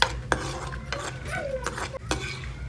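A spoon stirs fried bread pieces into milk in a pan, giving several soft scraping and clinking strokes against the metal over a low background hum.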